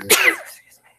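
A single short, sharp sneeze from a person in a room during a school reunion committee meeting, loud and close, fading quickly into silence.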